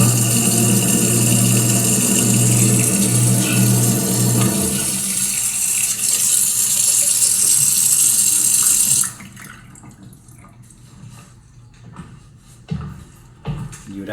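Kitchen sink faucet pouring water loudly and steadily into the basin for about nine seconds, then shut off, leaving faint household clatter and handling noises close by.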